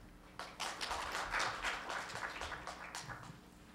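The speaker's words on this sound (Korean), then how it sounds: "큰 박수로 환영해 주시기 바랍니다" Audience at a Smart TV industry summit gives a presenter a welcoming round of applause: a few seconds of dense, moderately quiet clapping from a room of listeners, swelling briefly and then thinning out.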